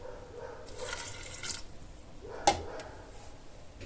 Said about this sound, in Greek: Στο σημείο αυτό θα προσθέσουμε το ανθό νερό